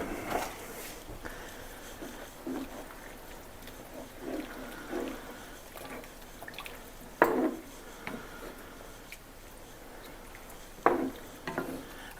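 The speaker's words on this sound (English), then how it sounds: "And then just mix that in and let it simmer." Beef bourguignon with thyme is stirred in a pot. Soft scrapes and wet stirring sounds pass over a steady low simmer, and a few sharper knocks of the spoon stand out. No one speaks.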